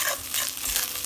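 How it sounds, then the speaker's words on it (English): Rice frying in a pan with butter and olive oil, a steady close broadband sizzle with faint stirring scrapes for about a second, no voices. "We're gonna fry our rice up."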